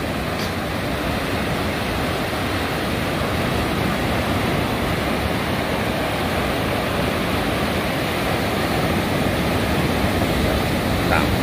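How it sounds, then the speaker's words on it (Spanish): Large ocean waves break on the shore in a dense, continuous roar of surf that stays loud and close throughout, with no voices. "Están muy grandes esas olas."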